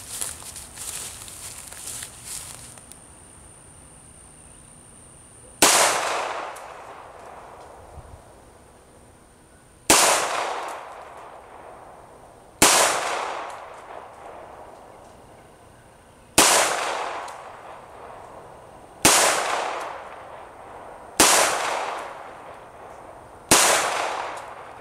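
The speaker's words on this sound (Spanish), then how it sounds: "Ok, hicimos 7 disparos." A Rock Island Armory 1911 pistol in .45 calibre fires seven shots at a target about 10 yards away, sharp loud close reports spaced a few seconds apart, each ringing out and decaying, with no talking.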